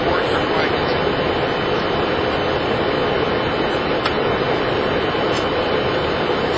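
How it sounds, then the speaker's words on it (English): Cockpit of a Boeing 747 fills with a dense, constant roar of jet engine and airflow noise, loud and unchanging from start to end, with no voices heard. "But this is from the cockpit of a 747."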